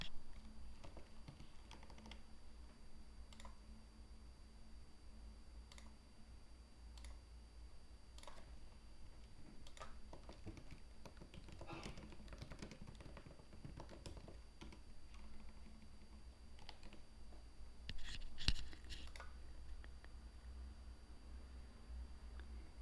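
Soft, faint keystrokes on a computer keyboard as text is entered into a sprite's text box in a block-coding editor, with irregular taps against a quiet background hum and no talking.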